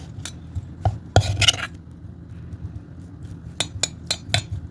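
Chicken for grilling is worked into a marinade in a bowl, giving soft wet squelching and occasional sharp clinks of a utensil against the bowl, in irregular bursts with quiet gaps and no talking.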